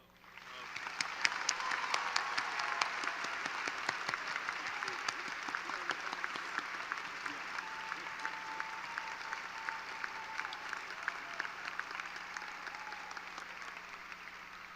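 A graduation audience applauds at length, steady dense clapping from a large crowd heard at moderate distance, with a faint voice or tone underneath.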